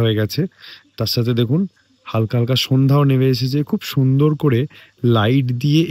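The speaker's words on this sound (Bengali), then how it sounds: "ঝিঝি পোকাও ডাকছে" Crickets chirp at dusk in the Tabakoshi hills near Darjeeling after rain, a faint continuous trill running beneath a person talking loudly in the foreground.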